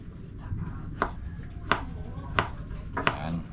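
Knife chopping fresh ginger root on a cutting board for a Filipino adobo dish: four sharp, evenly spaced chops, close and moderately loud, with faint kitchen background between strikes.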